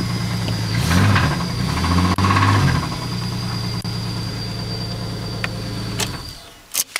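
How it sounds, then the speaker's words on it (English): A Holden Commodore engine idles roughly with a heavy, repeating clunk and knock, close and loud, throbbing steadily before cutting out near the end. "you hear a clunking in that engine"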